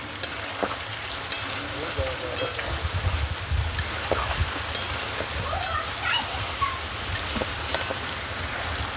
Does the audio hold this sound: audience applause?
no